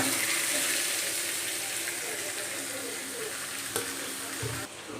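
Silver carp sizzles in hot oil in a wok, a loud steady frying hiss that fades slightly toward the end.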